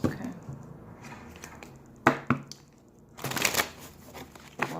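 Tarot cards shuffled by hand during a reading, a soft papery riffle with a few sharp slaps and a louder burst of shuffling near the end, close and alone with no voice.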